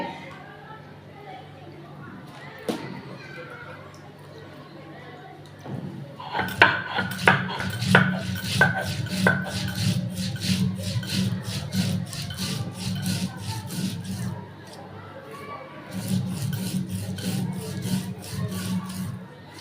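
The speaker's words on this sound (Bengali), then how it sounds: "আমি চালটা বেটে নিব আর আমি পাটায় বাড়তে আমার কাছে খুবই ভালো লাগে" Soaked rice is ground by hand on a flat grinding stone, a rhythmic series of rapid rough scraping strokes that starts after some opening talk, pauses briefly, then resumes, close and moderately loud.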